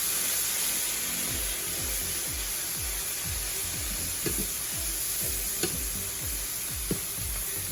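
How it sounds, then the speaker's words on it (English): Broth poured in small amounts into a hot pan of low-carb vegan stuffing with bread cubes and vegan butter, giving a loud, steady sizzle with soft bubbling and a few sharp pops and clinks of a spoon stirring. "And it's time to throw the broth in."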